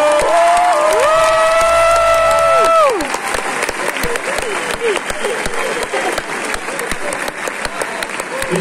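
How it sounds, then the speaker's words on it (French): Concert audience at a 25th-edition show breaking into loud applause and cheering, a dense sustained wash of clapping with whistles and shouts, starting under a held tone that fades out. "je voudrais que vous applaudissiez tous les jeunes présents ce soir"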